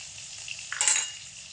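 Ginger and green chili paste hitting hot oil gives a brief, bright sizzle that swells and fades within a second over a quiet kitchen background.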